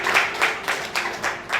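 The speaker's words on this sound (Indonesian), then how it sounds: "Tepuk tangan bagi Allah kita." A church congregation claps hands in rhythm during an Ascension Day worship service, a steady beat of about six claps per second's span, crowd clapping roughly every quarter second.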